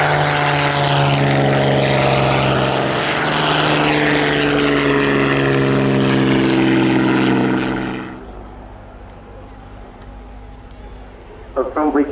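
Loud, sustained drone of World War II propeller aircraft from the Battle of Britain Memorial Flight, such as a Lancaster, Spitfire and Hurricane, passing overhead in a flypast, then dropping away sharply to quieter background.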